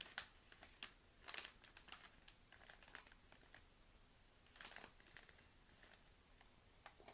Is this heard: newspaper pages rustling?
yes